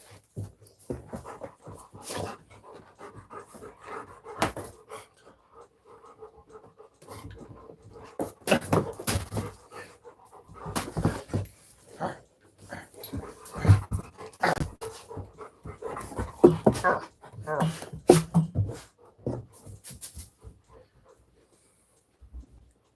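A dog pants in irregular bursts of breathy huffs, sometimes quiet and sometimes stronger, with occasional small whimpers, heard close over a long stretch.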